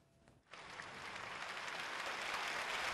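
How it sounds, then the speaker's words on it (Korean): An audience gives a standing ovation at a joint performance in Pyongyang, applause bursting in after a near-silent half second and swelling into a dense, steady roar of clapping. "관객들의 기립박수를 받으며 모습을 드러낸 김정은 위원장."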